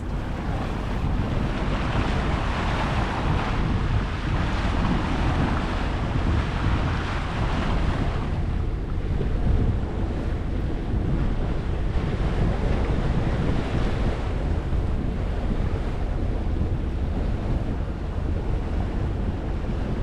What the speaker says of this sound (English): the wind's coming from the south, maybe almost southwest.